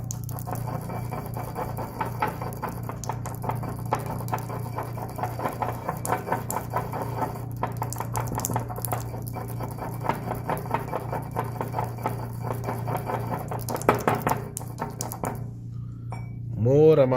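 A drug suspension being mixed with a small amount of syrup in a mortar, soft repeated scraping and tapping of the pestle under a steady background hum, with a brief clink near the end.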